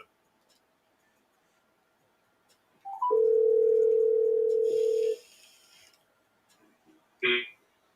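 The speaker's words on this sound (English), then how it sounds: "So here's the phone call between both Brother Polight and Sinetta" A steady telephone call tone of about two seconds, with a short rising blip before it and a brief chirp a couple of seconds later, sounding clearly in an otherwise quiet stretch just before a played phone call between two people.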